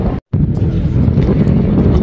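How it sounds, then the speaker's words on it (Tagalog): Cold wind gusts roar steadily against the microphone at the Aqua Line in Chiba, Japan, a loud, broad buffeting rush with a brief dropout near the start and no voices. "Hangin po dito, tapos ang lamig."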